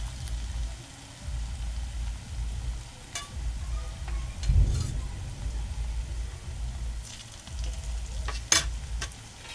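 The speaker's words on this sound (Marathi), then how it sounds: "आणि ढवळून घेऊया आपण जरा, म्हणजे उलट सुलट करून घ्यायची." Bottle gourd fritters fry in hot oil as they are stirred and turned: a continuous loud sizzle, with scraping clinks from the utensil now and then.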